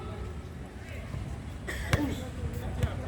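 A ball bounces once on an indoor court floor and is then kicked during a fullball coaching clinic, two sharp thumps about a second apart standing out over steady background chatter and crowd noise.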